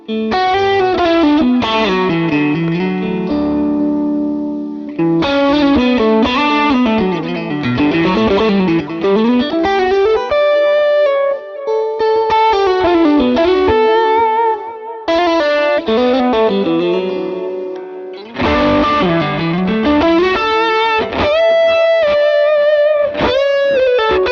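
Fender American Vintage '57 Stratocaster played through heavy effects, distorted and chorused, with sustained chords and melodic runs in several loud phrases separated by short pauses.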